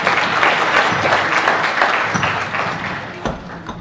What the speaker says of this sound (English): give her a round of applause and we'll welcome her warmly